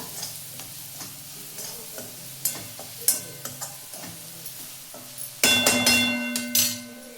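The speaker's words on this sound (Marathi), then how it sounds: "हळद, हे थोडं मिक्स करून घेऊया" Turmeric and asafoetida being stirred into hot oil with ginger-garlic paste in a village-style kitchen, steady soft sizzling broken by scattered spoon taps and scrapes, then a louder burst of clattering and frying.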